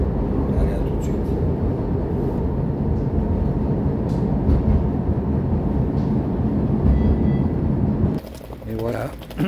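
A Porto metro train, ridden from Buenos Aires station, gives a steady loud rumble and rattle from inside the car for about eight seconds, then eases off as a squealing tone rises near the end.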